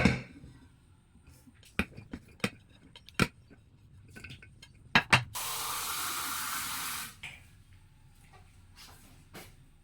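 Water pours steadily into a cooking pot of sliced bamboo shoots for a couple of seconds, after a scattering of sharp clinks and taps from utensils and cookware in a quiet kitchen.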